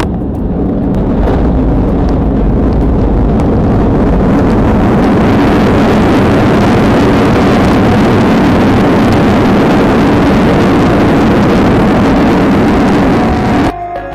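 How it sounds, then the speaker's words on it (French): An airliner's engines spool up with thrust reversers deployed on the landing roll, a loud, close, continuous roar that holds steady for the whole stretch before cutting down sharply at the end. "C'est le moment où l'on entend l'accélération des moteurs et l'avion est clairement en train de ralentir."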